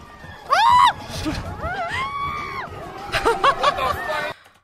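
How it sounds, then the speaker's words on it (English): Riders on a fast amusement ride at a Disney park scream in rising and falling shrieks, several voices overlapping, loud and close amid crowd chatter. "I'm really glad you could hear my scream."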